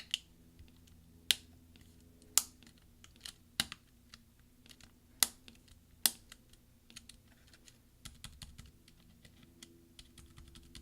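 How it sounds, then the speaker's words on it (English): A replacement tab key on a mid-2010 13-inch MacBook Pro is pressed down until its clips snap into place, giving several sharp, close clicks spaced apart, followed by a run of lighter, quicker clicks in a quiet room. "press down until you hear all the snaps from the various clips underneath it that need to click in"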